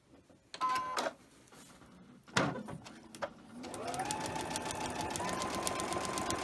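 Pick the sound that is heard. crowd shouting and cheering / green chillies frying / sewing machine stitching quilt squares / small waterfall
sewing machine stitching quilt squares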